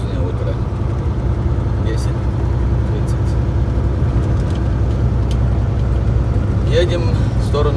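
A car driving along a road toward Los Angeles from San Pedro, with a steady low engine and road rumble throughout and a voice speaking over it.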